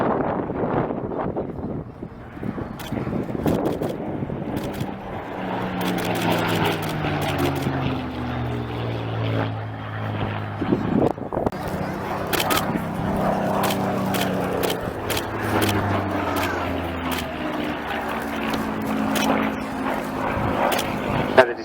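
Propeller-driven Spitfire MK356 performing a flying display at RAF Cosford airshow, its engine drone continuous and fairly loud throughout with shifting pitch as it banks and pulls round, buffeted by wind noise.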